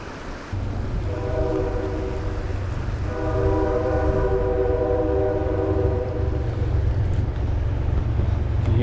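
A CSX freight train passes through Sykesville beside a river, its horn sounding in long steady blasts over a continuous low rumble of rolling cars, loud and close throughout.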